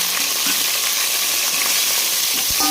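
Large tomato sizzling in a pan with country chicken curry for a village-style kuzhambu, a dense, loud, continuous frying hiss with light clinks of stirring throughout.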